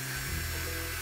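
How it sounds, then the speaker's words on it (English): A brief, steady high-pitched whine of a cordless drill boring into a pumpkin close by, its pitch dipping slightly as it bites in. "just use a cordless drill"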